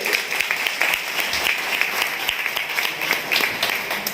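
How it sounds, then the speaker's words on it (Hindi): An audience at a traders' meeting claps steadily, a continuous moderately loud applause with no voice over it. "एक बार जोरदार तालियां"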